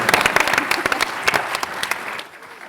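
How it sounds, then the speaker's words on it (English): A business panel audience claps briefly, a burst of crisp individual hand claps from a modest crowd that thins out and fades away toward the end. "give him a round of applause"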